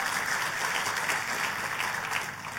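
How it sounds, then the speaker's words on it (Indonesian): Church congregation clapping for God during a sermon, a continuous wash of applause that sounds somewhat distant and moderately quiet. "tepuk tangan yang paling meriah buat Tuhan kita"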